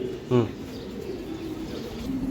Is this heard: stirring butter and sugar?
no